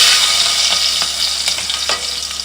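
Garlic sizzles steadily in a hot pan for mango pickle, a loud close hiss of frying oil with a few soft stirring scrapes and no talk.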